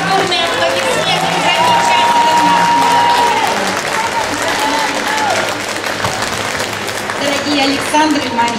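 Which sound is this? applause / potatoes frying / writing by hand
applause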